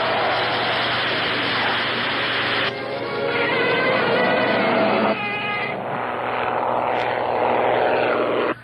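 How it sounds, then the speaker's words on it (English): An airplane approaches in a monster-movie scene, a loud, steady propeller drone filling the air and shifting in tone as it draws nearer, with broadband engine roar throughout. "Here comes the plane."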